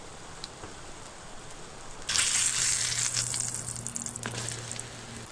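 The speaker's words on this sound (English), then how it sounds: "I'm gonna hold on to that bacon grease and cook some bannock in it." Bannock dough dropped into hot bacon grease in a pan inside a hot tent on a cold rainy camping trip, starting as a sudden loud sizzle that keeps crackling steadily after a quieter lead-in.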